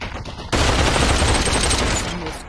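Loud, dense automatic gunfire bursts in abruptly in the Population: One VR battle royale (Phoenix Royale mode) and rattles on steadily and close for about two seconds, with no talk over it.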